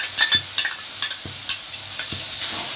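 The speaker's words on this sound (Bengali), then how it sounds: "এবার আমি আদা রসুন আর কাঁচা লঙ্কার পেস্টটা দিয়ে দিলাম" Ginger, garlic and green chilli paste fries in hot oil over browned onions for a Bengali katla fish curry, with a steady bright sizzle broken by regular stirring scrapes roughly twice a second, close and loud.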